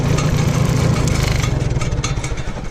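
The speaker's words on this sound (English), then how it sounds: "let me shut the tractor off here quick so we're not making so much noise" A Farmall H tractor engine runs close by, a loud, steady low rumble with a fast pulsing beat that continues throughout without pause.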